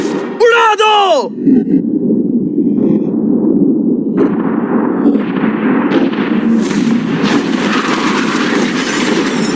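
An explosion blows up a yacht after a countdown, a dense low roar that swells and rumbles on for several seconds with crackling debris, preceded by a brief harmonic burst at the start.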